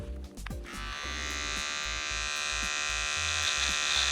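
Electric beard trimmer buzzing steadily while cutting a beard, a close, even mechanical hum with a few brief bumps at the start, no voices.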